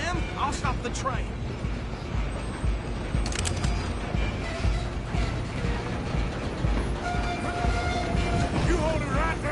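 A train in the Red Dead Redemption video game rumbles and clatters steadily with rattling mechanical cars and brief high squeals, heard under continuous game sound and talk.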